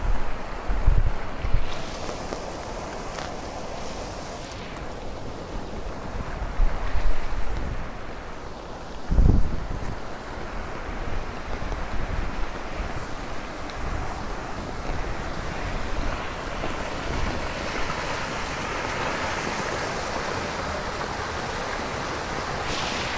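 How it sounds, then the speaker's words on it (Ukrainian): The flooded Lybid River in Kyiv rushes and churns continuously in turbulent waves, with gusty wind buffeting the microphone and occasional heavier thumps, loud and close. "Ну, подивіться на ці хвилі."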